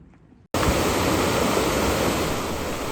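A storm-swollen creek that normally trickles, now raging, gives a dense, loud, continuous rush of churning water that cuts in abruptly after a brief quiet moment and holds steady throughout.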